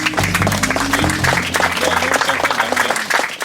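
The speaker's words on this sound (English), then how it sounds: "Can we get a round of applause for that discussion we just had?" An audience at an Alaska Gwich'in gathering applauds after a discussion, sustained clapping from many hands, under a low hum or tones that fade after the opening seconds.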